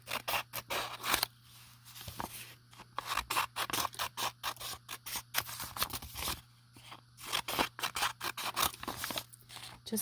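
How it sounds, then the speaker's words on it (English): A new pair of scissors snips around the border of a marble painting on paper, giving a rapid run of crisp, close cutting clicks and crunches with short pauses, over a steady low hum. "Got a new pair of scissors today."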